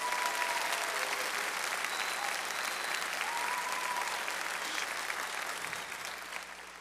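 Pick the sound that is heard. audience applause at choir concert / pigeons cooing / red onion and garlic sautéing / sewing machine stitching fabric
audience applause at choir concert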